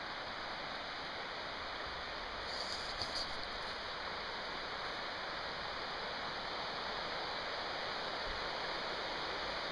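The west branch of the Sacandaga River at a campground rushes in a steady, broadband wash, a constant near roar of flowing water with no pauses and no voices.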